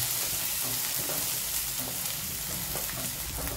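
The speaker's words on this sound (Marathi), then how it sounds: "कांदा आपला पहा भाजत आहे." Onion frying in a pan while being stirred, a soft, even, continuous sizzle with light scrapes of a spoon, fairly quiet and close, no one speaking.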